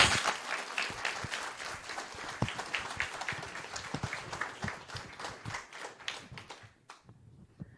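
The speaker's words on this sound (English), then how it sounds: "Can we give all of our participants a round of applause?" An audience at an elementary school district event applauds steadily with many overlapping claps at close range for about seven seconds, thinning out near the end.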